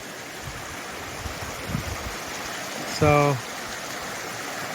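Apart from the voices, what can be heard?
river stream flowing around a small island in the desert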